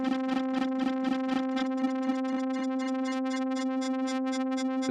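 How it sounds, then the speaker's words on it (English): An Elektron Tonverk synthesizer plays a steady buzzy, distorted tone whose brightness pulses rhythmically under sine-wave modulation, the pulsing speeding up toward the end, with no talking over it. "And this is all coming from the sine wave now."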